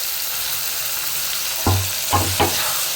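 Onions and tomatoes fry in a pan for a dry fish (vala karuvadu) thokku, giving a steady close sizzle. Three short stirring scrapes come near the end, and no one speaks.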